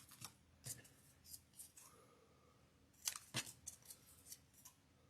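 Scissors snip the pointed corners off book-page paper for paper roses. Several quick, crisp cuts come at uneven intervals, close and quiet, with no speech.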